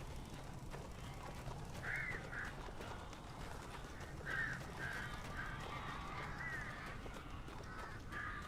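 Several crows caw in short bursts in Alan Wake Remastered, spaced-out calls over a steady ambient bed of outdoor game atmosphere, moderately distant, with no voices.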